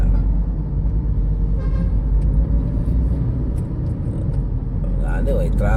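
Road traffic heard from inside a moving vehicle, a heavy steady low engine rumble throughout with a faint horn toot near the end.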